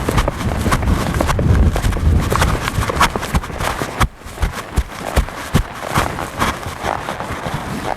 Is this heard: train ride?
no